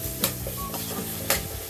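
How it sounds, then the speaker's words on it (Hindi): Masala and tomatoes sauté in a pan for a rohu fish curry, giving a close, steady sizzle with two sharp scrapes of a spoon stirring against the pan. "ये डाल के मसाला को अच्छे से भूनना है"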